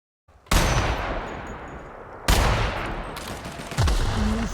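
Repeated bursts of gunfire from a weapon in a space shooter video game with dinosaurs, three loud sustained volleys rattling close and dense with no pause in between.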